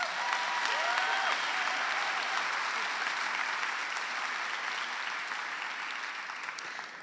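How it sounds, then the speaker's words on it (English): An audience gives a full round of applause at a foundation community event, with dense, even clapping held steady for several seconds and then easing slightly toward the end. "I'd ask you to please give them a round of applause."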